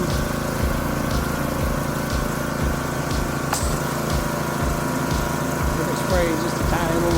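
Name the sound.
home pressure washer spraying a house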